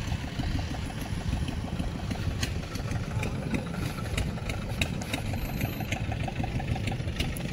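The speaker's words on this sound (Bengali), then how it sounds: "এই যে ইঞ্জিনের নৌকা দেখা যাচ্ছে" An engine-driven boat on the Kushiyara river chugs with a steady, rapid mid-pitched rhythm close by, running continuously without pause.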